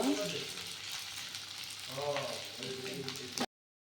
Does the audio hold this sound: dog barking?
no